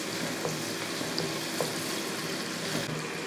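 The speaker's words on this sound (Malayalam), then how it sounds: "ഇഞ്ചിയും വെളുത്തുള്ളിയൊക്കെ ഇതേപോലെ ഒന്ന് മൂത്ത് വരുന്നുണ്ട്." Chopped ginger and garlic fry in oil as the base for a kanthari chili and mango pickle, a steady close crackling sizzle with a few faint taps of stirring and no voices.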